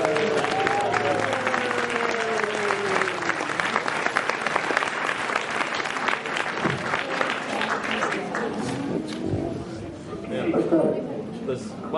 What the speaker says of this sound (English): Can we have a big Rosebud cheer for Catherine Coleman on board?